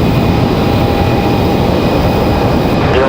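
Jet airliner taking off at Raleigh-Durham airport, a steady, loud broadband roar with a low rumble that stays constant throughout, no voices over it.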